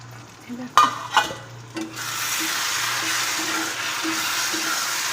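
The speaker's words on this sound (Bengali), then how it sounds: "মশলা কষানো হচ্ছে টমেটো সেদ্ধ হয়ে গেছে" Spices and tomato frying in a pan as a masala is cooked down, a few sharp knocks of a spatula at first, then a steady close sizzle that holds evenly to the end, with no talk.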